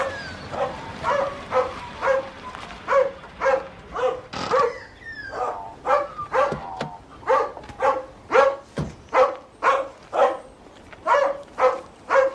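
A dog barks repeatedly in a steady, rhythmic series of sharp, close barks, with a few higher yips mixed in.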